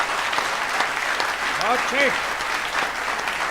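Steady applause fills the room at a Hindi poetry recital, a dense wash of clapping throughout, while a voice calls out briefly over it.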